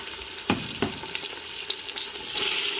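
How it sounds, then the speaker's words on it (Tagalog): Chicken wings sautéing in a pan with onion, garlic and ginger give a steady close sizzle, with a few sharp stirring clacks and scrapes, and the frying hiss swells toward the end; nobody talks. "Igigisa natin siya sa sibuyas, bawang, at luya."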